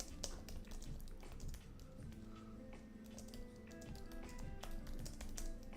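Rapid, uneven tapping on a computer keyboard, close and fairly quiet. The clicks come in irregular bursts throughout with no voice.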